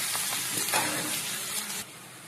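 Onions fry in oil in a kadai with a close, steady sizzle and some stirring scrapes, then the sound drops away near the end.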